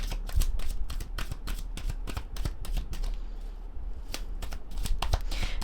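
Tarot cards shuffled and pulled from the deck, a rapid run of crisp riffling snaps and flicks, close and fairly loud, with a brief lull midway before the riffling resumes.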